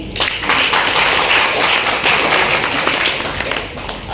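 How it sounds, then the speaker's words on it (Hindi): Audience in a packed hall applauds at a literary tribute evening in Mumbai, a steady dense wash of clapping that holds evenly for about four seconds with no talk over it. "ये देखिए परसाई जी के लिए पूरा हॉल खचाखच है, तालियां बनती हैं।"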